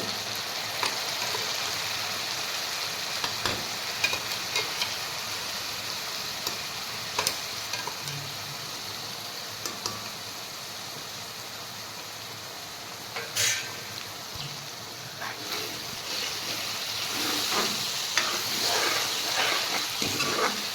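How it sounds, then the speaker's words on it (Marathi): Masala spice mix frying in oil for a drumstick (shevga) bhaji, stirred throughout: a steady close sizzle and hiss with scattered scraping taps from the stirring, no voices. "तेलामध्ये छान विरघळायचा मसाला."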